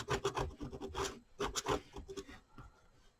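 Pen or marker scratching along a ruler while straight lines are drawn on quilt fabric. Soft, close, irregular rubbing strokes that fade out toward the end.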